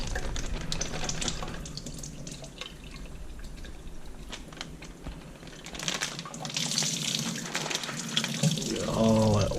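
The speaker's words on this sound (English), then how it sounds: "drain out these mushrooms" Water running and dripping in a kitchen sink as freshly picked oyster mushrooms, previously frozen, are drained, a steady splashing close by that swells louder toward the end.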